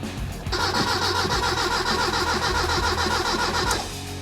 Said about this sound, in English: Turns over nicely though.